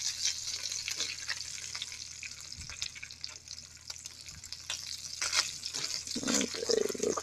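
Appleton Farms premium sliced bacon frying in a pan on a stove, a quiet steady sizzle and crackle with scattered pops and small clicks, close and continuous with no talking.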